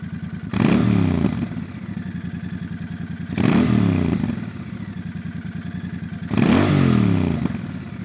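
Royal Enfield Bear 650 scrambler with a 2-in-1 exhaust, close by, throbbing at a steady idle and revved three times at even intervals, each rev swelling loudly and then dropping back.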